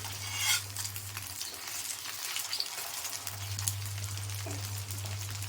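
Flattened rice and egg fry in a pan for breakfast, giving a soft steady sizzle with quiet stirring and scraping from a utensil. A low hum drops out briefly in the middle.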